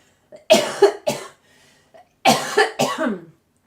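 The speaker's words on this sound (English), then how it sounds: "Cough, cough, cough." A person coughs several times in two quick pairs, loud and close, with brief pauses between the bursts.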